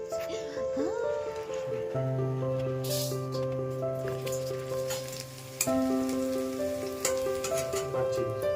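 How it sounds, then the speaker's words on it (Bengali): Galda prawns (freshwater giant prawns) fry in a pan with a steady sizzle beneath a sustained tonal background with shifting pitches, a brief clatter near the middle. "আর এখানে এখন ভাজা হচ্ছে"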